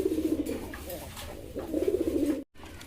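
A pair of Black German Beauty pigeons coo up close in two bursts of repeated, throaty rolling notes, separated by a short lull and ending with a brief dropout.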